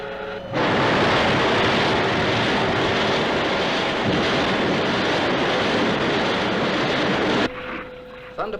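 Thunderbird craft launching with a loud, steady roar of aircraft engines that holds constant for about seven seconds and then cuts off sharply, leaving quieter background sound.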